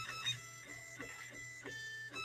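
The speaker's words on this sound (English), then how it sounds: "So the printer is first going to adjust itself and clean the extruder" A Lulzbot 3D printer running its self-adjustment and extruder-cleaning routine, with steady motor whine, stepped tonal stepper-motor pitches and a few clicks of movement, close and continuous.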